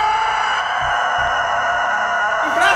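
A rooster lets out one loud, sustained, nearby crow that fills the whole moment and breaks off at the end.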